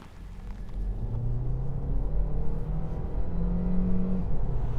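A 2023 Kia Niro SX Hybrid driving on the road, a steady low rumble of tyres and drivetrain that swells slightly as the car gathers speed, with no talking.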